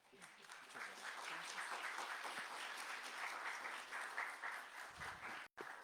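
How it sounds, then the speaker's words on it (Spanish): An audience at a public administration talk on archives claps steadily for several seconds, an even and moderately quiet round of applause that stops abruptly near the end. "Permítanme solicitarles un aplauso, por favor."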